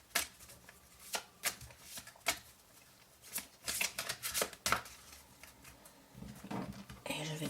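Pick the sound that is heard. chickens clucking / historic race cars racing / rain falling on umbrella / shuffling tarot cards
shuffling tarot cards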